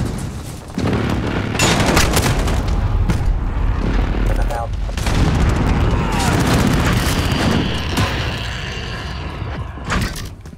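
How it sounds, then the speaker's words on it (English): A precision airstrike in Call of Duty Modern Warfare lands as a series of heavy booming explosions mixed with gunfire, loud and dense, with game radio voice lines heard over the blasts. "Enemy precision airstrike."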